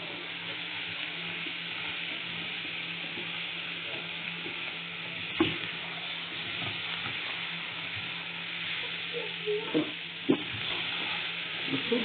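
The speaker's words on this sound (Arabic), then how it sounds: "الفلفل والبصلايه والفصين الثوم والسوسيس كله تشويح ياخد لون" Sausages, peppers, onion and garlic sautéing in oil in a pan, a soft, even sizzle with a handful of faint stirring knocks and scrapes, no talk.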